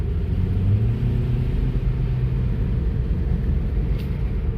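A 7th-generation Honda Accord 2.4 engine with a free intake mod runs with a steady low rumble at close range, a slight rise in tone near the start, then an even idle-like drone.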